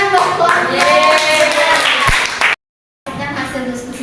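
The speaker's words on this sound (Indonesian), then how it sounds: "Tepuk tangan dong, Tuan." A classroom group gives a burst of loud, close applause after a presentation, with voices mixed in, a brief silent gap, then the clapping resumes.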